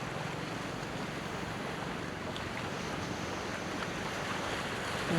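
Steady ocean surf washing onto a beach, a continuous broad roar of breaking waves with wind, heard alone without voices and swelling slightly toward the end.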